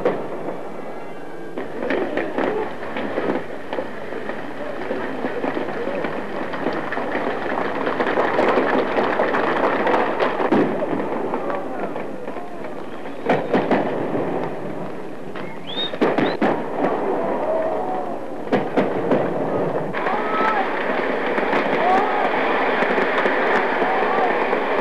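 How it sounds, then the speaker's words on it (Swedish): Fireworks display closing a 1948 company medal celebration in Åtvidaberg, Sweden, heard as a dense, continuous crackle of bursts and rumbles at moderate distance, with a few whistling rockets rising partway through and a busy crowd-like wash throughout. "titta på det pampiga fyrverkeri som avslutar programmet"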